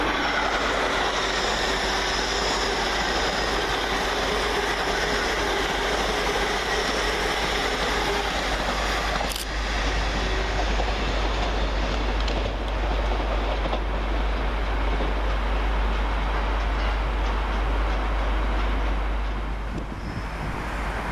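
LNER train 801226, running from Edinburgh Waverley to London King's Cross, rolls through Peterborough station with a sustained loud rumble of wheels and engine, a brief sharp squeal midway, easing slightly at the end.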